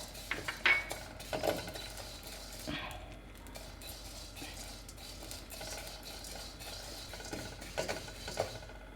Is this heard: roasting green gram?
yes